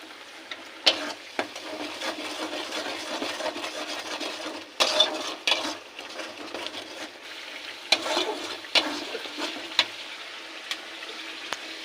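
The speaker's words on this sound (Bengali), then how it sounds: "এটা হচ্ছে বিরিয়ানির মশলা, কষাচ্ছি।" Ginger, garlic and onion paste masala for chicken biryani sautés in a pan, a steady soft sizzle broken by several sharper scrapes and clatters of stirring, close and alone.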